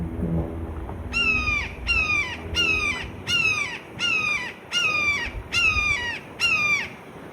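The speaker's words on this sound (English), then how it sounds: "That is a big hawk." A big hawk calls repeatedly from the trees at a Florida state park campsite, a series of about eight loud, harsh descending cries at a steady rhythm with quiet gaps between them.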